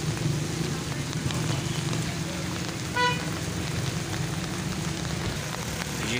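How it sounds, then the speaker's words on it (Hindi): Heavy rain pours steadily across a town square in Taxila, a broad continuous wash of noise with a brief horn toot near the middle and traffic rumble underneath; a voice speaks over it. "यहाँ से अगर आप देखें तो हर तरफ तेज़ बारिश"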